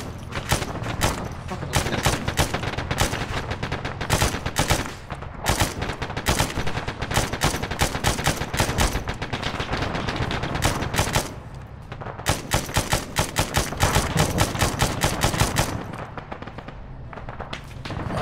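Sustained heavy gunfire in the Arma military video game during a beach invasion, dense rapid automatic bursts and repeated shots over nearly the whole stretch, loud and close, with brief pauses between volleys.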